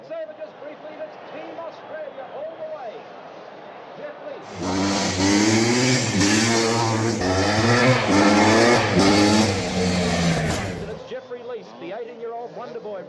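A 1982 Kawasaki KX250 B1 motocross bike engine revs loudly in repeated rising bursts for several seconds, cutting in abruptly between stretches of someone talking.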